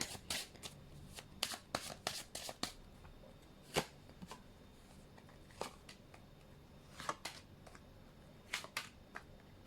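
Tarot cards being shuffled at close range, with repeated quick riffling bursts and soft slaps coming in an uneven rhythm over a quiet background, with no voice.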